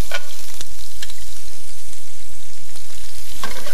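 Diced shallots sizzle loudly in a hot pan and are stirred now and then, giving a steady, close frying hiss with occasional scraping and no talking.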